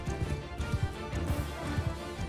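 Horse hooves in Mount and Blade Bannerlord clip-clopping in a quick, uneven rhythm, close and moderately loud, with battlefield ambience underneath.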